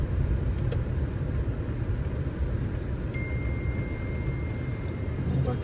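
A car on a road trip from Mandarmani to Digha rolls into a parking area in Digha, heard from inside as a steady, even engine and road rumble with no voices.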